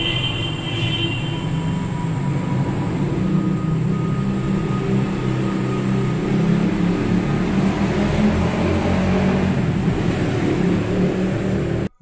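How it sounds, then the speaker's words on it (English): A steady, loud roar of passing traffic outside a window, a continuous low rumble with a faint whine above it that barely shifts over the whole stretch. "traffic is heard roaring out the window"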